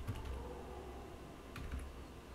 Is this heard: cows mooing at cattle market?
no